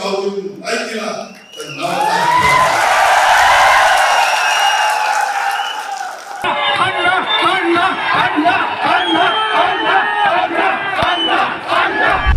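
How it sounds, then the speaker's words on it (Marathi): A large crowd at a sugar factory panel rally erupts in loud, sustained cheering and battle cries, with shouts, whoops and a dense roar of voices continuing throughout. "घोषणा ऐकून सभेतील लोकांनी तुफान जल्लोष केल्याचं पाहायला मिळालं"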